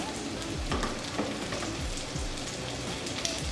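Shallots sizzle steadily in a hot pan, a dense, even crackle with faint low thumps underneath.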